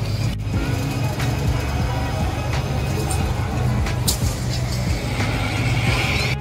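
A car pulls up in a busy Manila setting amid steady low vehicle rumble, with a faint voice in the background and a few brief higher clanks over continuous traffic noise.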